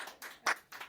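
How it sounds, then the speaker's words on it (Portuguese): A small audience at a talk event gives a few quiet, separate bursts of clapping, spaced apart in an otherwise quiet room. "Acho que uma salva de palmas."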